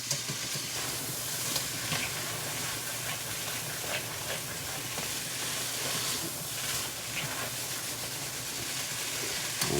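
Vegetables sauté on high heat in a pot for chicken noodle soup, giving a loud, steady sizzle and hiss that runs without a break. Nobody speaks.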